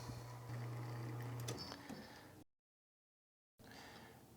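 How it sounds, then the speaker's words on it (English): A La Marzocco Linea Mini espresso machine's rotary pump gives a low, steady hum for over a second amid faint machine noise, then the sound cuts to silence before a soft return. "that rotary pump is very quiet. So you barely hear it"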